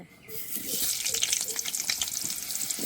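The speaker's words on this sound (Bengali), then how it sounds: "আলুগুলো একটু ভালো করে ভেজে নেব।" Potatoes frying in a pan for a fish curry: a steady, close crackling sizzle with scattered pops that holds throughout, faint low sounds beneath.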